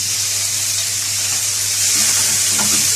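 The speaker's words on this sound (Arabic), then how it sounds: "هتبدا كده الطماطم تتشوح معانا" Chopped tomatoes sauté in a hot frying pan with a dense, continuous sizzle, loud and close, with faint stirring taps near the end.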